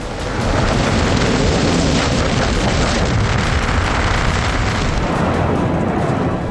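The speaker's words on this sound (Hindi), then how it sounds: "आधी रात को धमाकों की गूंज सुनाई दी" Missile explosions during an Iranian missile and drone attack on Tel Aviv at midnight, a dense continuous roar of booms and rumbling blasts, loud and sustained without a break.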